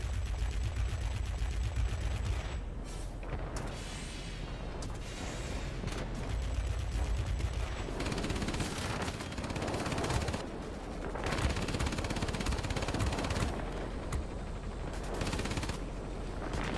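Guns and bombs firing from a Tier X Blohm und Voss P.215.02 multirole fighter in World of Warplanes during an airfield attack, with dense continuous bursts and booms over a steady engine drone and no talk.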